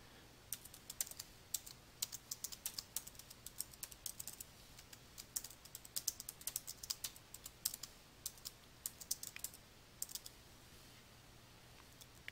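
Quiet, rapid keystrokes on a computer keyboard tap out text in irregular bursts, clicking steadily for about twelve seconds with no talking.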